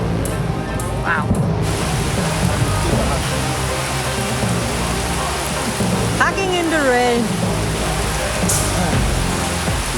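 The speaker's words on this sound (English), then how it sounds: "Wow, that's rain." Heavy rain pours down steadily in a dense hiss on a Costa Rica house-building site, with a few voices speaking briefly through it.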